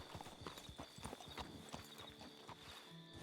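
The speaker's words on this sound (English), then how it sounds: "You have 2 horses in front of that carriage." Two horses pulling a carriage in Red Dead Redemption 2, their hooves clip-clopping in a quick, uneven rhythm on the road, moderately close and heard alone without talk.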